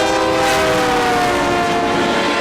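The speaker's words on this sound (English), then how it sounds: "before the train came barreling down the tracks" A train barrels down the tracks, its loud, continuous roar filling the whole stretch with sustained horn-like tones and rumbling rail noise, very near.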